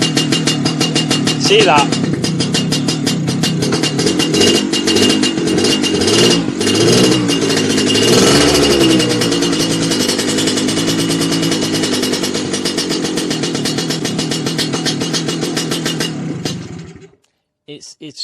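A Lambretta scooter with an oil seal problem starts and runs roughly close to the microphone, its engine struggling and failing to climb in revs, loud and steady until it cuts out abruptly; someone speaks briefly over it.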